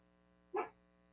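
A single short dog bark sounds at moderate distance against a quiet background.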